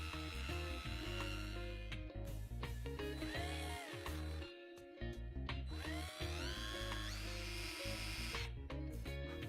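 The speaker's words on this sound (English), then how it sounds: "I use a 4mm drill bit for this." A 4mm drill bit bores out rivets holding the base to the body of a Mercedes 230 SL model clamped in a vise, the drill whining continuously with shifting pitch and a few brief pauses.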